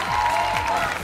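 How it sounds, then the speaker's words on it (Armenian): An audience at a rock song contest gala applauds, a dense, sustained wash of clapping from a large crowd, with a faint held tone underneath. "Հատուկ ծափահարություններով շնորհակալություն հայտնենք Նարային իր կատարած աշխատանքի համար"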